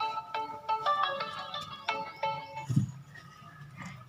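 A phone ringtone plays a quiet melody of short, bright notes in quick succession, fading into softer tones toward the end.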